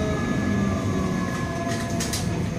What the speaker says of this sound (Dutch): ik zit nu in de tram